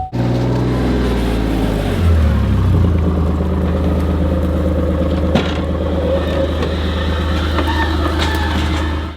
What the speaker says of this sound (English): Let's get the car started for Mom and Jonah.